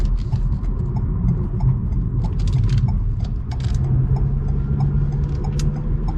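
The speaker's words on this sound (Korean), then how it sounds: "지금 가속도 해보는데도 차 잘 나가네요." A Renault SM6 RE sedan accelerating on a test drive, heard from inside as a low steady engine rumble with road noise and faint clicks.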